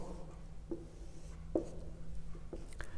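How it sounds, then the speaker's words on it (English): Pen sketching a velocity–time graph on paper for a maths lesson, soft scratchy strokes and a few light taps, close and quiet with no talking. "So now I'm going to sketch the graph."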